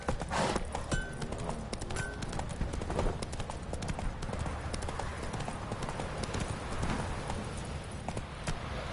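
Roach, Geralt's horse in The Witcher 3, gallops with a steady, close clip-clop of hooves that carries on throughout, layered over busy game ambience.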